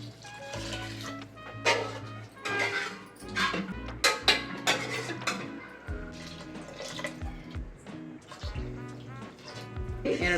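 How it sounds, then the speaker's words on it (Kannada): Water poured from a glass into a pressure cooker holding rice for paneer pulao, splashing and trickling in bursts over several seconds, close by, under background music. "ಒಂದು ಗ್ಲಾಸ್ ಅಕ್ಕಿಗೆ 2 ಗ್ಲಾಸ್ ಹಾಕ್ಕೊತಾ ಇದ್ದೀನಿ ನೀರು."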